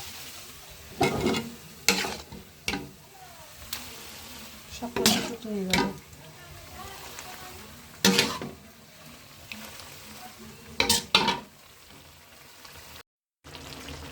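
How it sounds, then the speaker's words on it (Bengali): Hot oil tempering (baghar) for taro greens in a kadai sizzles steadily, with several loud bursts of frying and stirring scrapes spread through, and a voice talking intermittently over it. "এখন তেলে দিয়েছি অথবা বাগার দিয়েছি"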